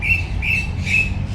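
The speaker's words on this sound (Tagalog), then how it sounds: "Puro ibon." Birds in a mini zoo at a wildlife park give three evenly spaced, shrill squawking calls over a steady low background rumble.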